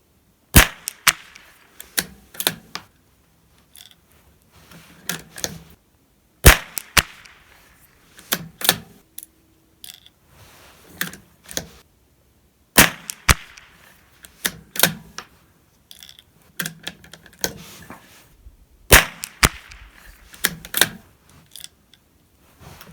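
A Ruger Precision Rimfire .22LR rifle fired from a shooting sled outdoors, a series of sharp, close reports spaced several seconds apart, with quieter clicks of bolt handling between them and no talking.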